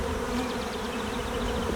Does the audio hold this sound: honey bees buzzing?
yes